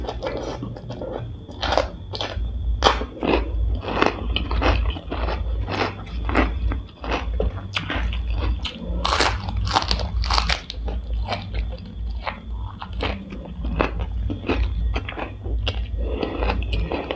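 Crispy deep-fried sausage being bitten and chewed up close, eaten with a khanom jeen papaya salad, giving a long run of loud, repeated crunches at an uneven chewing rhythm with no talking.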